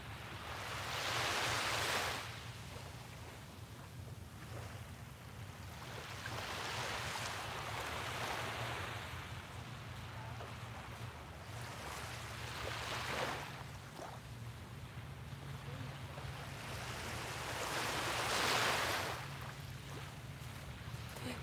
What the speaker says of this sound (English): soak in the colors, the sounds of the waves,